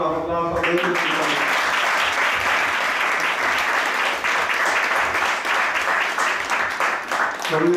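An audience at an ISKCON temple gathering in Brampton breaks into sustained, dense applause that starts right away and runs on steadily, with a few voices under the clapping at the start.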